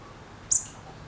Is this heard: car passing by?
no